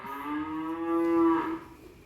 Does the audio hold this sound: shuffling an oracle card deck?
no